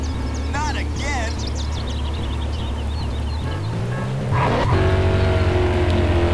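Game car engine in GTA San Andreas, a steady mid-loud drone with a brief tire skid near the end as the vehicle changes pace, set over steady background music.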